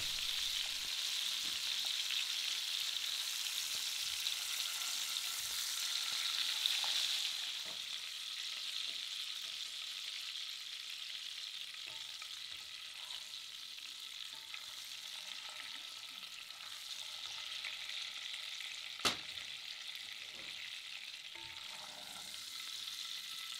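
A foie gras escalope pan-searing and being basted in a frying pan, with continuous crackling fat sizzle, occasional spoon clinks and a sharp tap near the end, close and steady.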